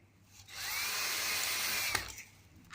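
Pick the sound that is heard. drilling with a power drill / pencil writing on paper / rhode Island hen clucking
drilling with a power drill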